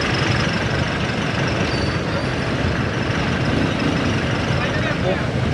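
Trucks and buses idle in congested street traffic in Angeles City, Pampanga, making a steady, dense low engine rumble with broad road noise and no clear breaks.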